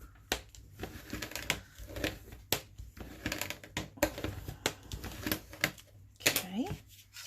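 Paper is lined up, creased and pressed flat with a bone folder, giving a dense run of close crinkling, rustling and dry tapping bursts under quiet talk.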